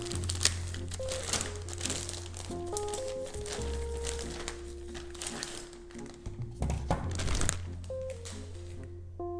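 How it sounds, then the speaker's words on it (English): A plastic evaluation kit bag crinkles and rustles in a few bursts as it is handled and opened, close up, over a low steady hum. "Open the evaluation kit plastic bag."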